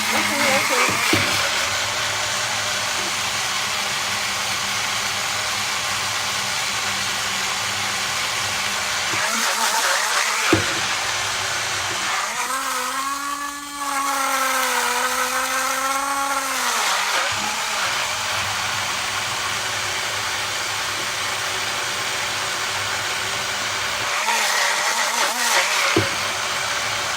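A Greenis blender motor roars loud and unbroken for a long stretch, its pitch dipping and rising partway through, with some talking at times.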